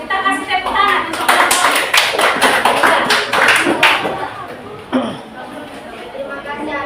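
Group of people clapping after a call for applause at a class presentation, a short burst of close, uneven hand claps under chatter, fading out within a few seconds as talk resumes.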